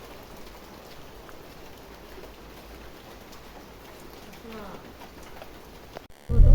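Soft, steady rain hiss in the background with faint birds cooing, ending in a sudden loud rumbling burst.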